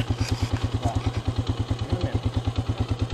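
A four-wheeler ATV engine runs nearby with a steady, rapid, rhythmic chugging idle, loud and close throughout, with faint background noise above it.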